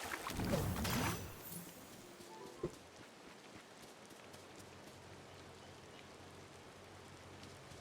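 Rain falls in a video game as a steady, faint hiss of patter that runs throughout, with a louder burst at the start and a brief knock midway.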